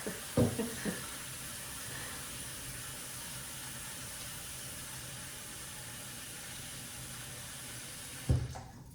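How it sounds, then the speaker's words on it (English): Tap water runs steadily into a large pot, about eight cups, being filled for boiling hibiscus tea in a home kitchen, a continuous close hiss with brief clunks at the start and end. "So we're going to start with some water, and we're going to boil it."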